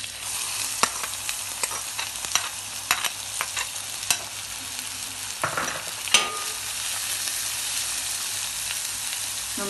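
Sliced onions crackle and sizzle steadily in hot coconut oil, with occasional sharp stirring clatters from a utensil against the pan; no voices.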